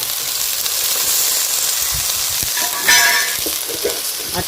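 Chopped ridge gourd, tomato and tamarind frying in a hot pan for chutney, a loud continuous sizzle with a brief louder burst of hissing and faint stirring taps.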